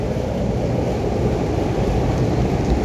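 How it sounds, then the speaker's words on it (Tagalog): Strong current of flood water near the Philippine General Hospital in Manila, heard as a loud, continuous rushing roar that stays even throughout, with no talk. "Although mataas yung current ng tubig eh,"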